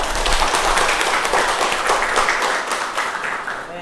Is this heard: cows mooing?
no